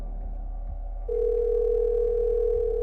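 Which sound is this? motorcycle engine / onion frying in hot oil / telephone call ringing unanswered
telephone call ringing unanswered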